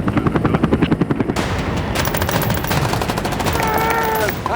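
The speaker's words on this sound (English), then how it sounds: "The gunfire has started." Rapid bursts of staged gunfire crackle during a mock beach landing, loud and sustained over a heavy engine drone, with a high whine and faint voices in the mix.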